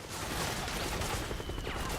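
Steady, dense gunfire between soldiers in the Metal Gear video game, a continuous crackling fusillade at fairly low level that never lets up across the moment.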